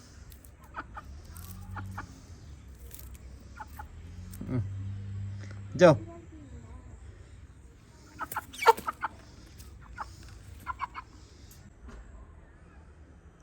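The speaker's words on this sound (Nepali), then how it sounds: "ल, कुखुरालाई मैले आजाद गराइदिएँ।" Hybrid broiler chickens just released cluck and squawk nearby in short, scattered bursts with a few louder calls, while someone speaks at intervals over faint background noise.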